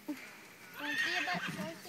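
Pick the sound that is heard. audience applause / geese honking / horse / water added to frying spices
horse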